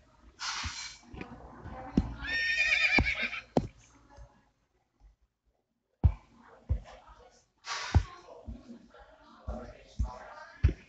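A horse neighs in the video game Block Craft, a loud rising whinny early on, followed by scattered clicks and soft game noises while a person talks.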